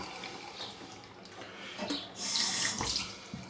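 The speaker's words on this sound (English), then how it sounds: "Sink looks horrible, so I'm going to give that a rinse off." Tap water running into a bathroom sink during a shave, a quieter trickle at first that swells into a louder gushing rinse partway through, heard close with no talking.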